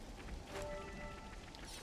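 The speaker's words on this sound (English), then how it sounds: "it's raining" Rain in the video game Xenoblade Chronicles 3 makes a constant, even hiss of falling drops with light patter and a faint tonal game sound mixed in.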